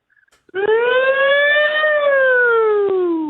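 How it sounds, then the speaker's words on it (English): A single siren wail rises and slowly falls, loud and steady for about three seconds after a brief quiet start, with no talking. "With the siren."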